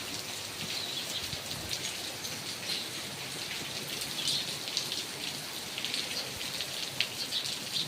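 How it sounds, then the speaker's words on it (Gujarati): Steady heavy rain pours down outdoors in a village, a dense continuous hiss of drops on surfaces throughout, with faint bird calls now and then behind it. "બહુ સારો વરસાદ પડે છે"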